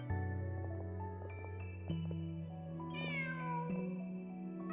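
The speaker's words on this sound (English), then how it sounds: "Just a cat" A cat in the video game Genshin Impact lets out a few clear meows over a soft sustained musical score, with a brighter rising chime partway through.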